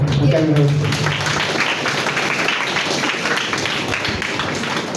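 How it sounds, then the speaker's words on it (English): Sustained applause from an audience at a science and technology innovation contest, a dense continuous wash of many hands clapping at steady loudness, with a voice briefly audible at the start. "huge round of applause to each one of you for taking this effort"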